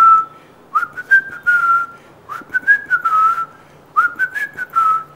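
A man whistles three times in rising, warbling bursts, mimicking a pressure cooker's whistle, each call close and clear with short pauses between them.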